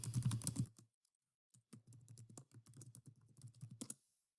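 Typing on a computer keyboard while logging in with a username and password: a quick burst of keystrokes, a short pause, then a steady run of close, crisp clicks with no voices.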